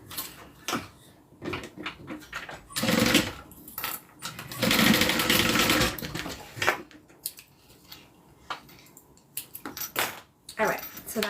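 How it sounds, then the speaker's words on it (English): A sewing machine stitches down the top of a small denim-style mini zip-around wallet in short bursts, broken by pauses, handling noise and a voice talking in between. "And then just sew down the top."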